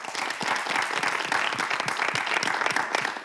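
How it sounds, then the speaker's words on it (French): Schoolchildren from Saint-Esprit de Pougan and the Le Bon de Dagué school complex applaud together on a youth show, dense energetic clapping that stays loud and close throughout. "Ils vous disent bonsoir en applaudissant."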